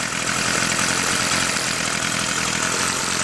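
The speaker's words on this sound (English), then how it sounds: "I'm going to give it a couple pulls and see. Runs and idles." A Craftsman 18-inch 23cc gas hedge trimmer two-stroke engine runs at a steady, buzzy idle, loud and close throughout with no talking.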